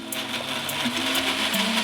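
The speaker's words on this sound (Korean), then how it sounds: "마지막으로 다 같이 갈아주세요." A kitchen blender whirs steadily as it blends milk, chopped mint, melon syrup and ice cream into a melon mint milkshake, a continuous moderately loud motor hum with no voices.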